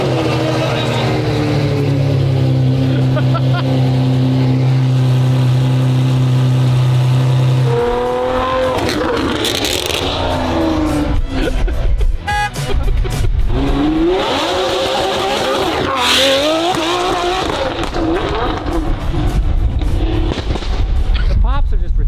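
A McLaren supercar engine in a video game starts with a steady low drone, then revs hard in repeated surges with crackling exhaust pops, loud and close, while people talk over it.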